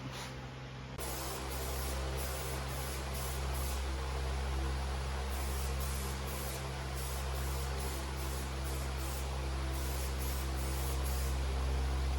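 Continuous hiss of a spray gun laying light coats of paint on a car in a home garage, steady and fairly close, with a low compressor hum beneath and no talking.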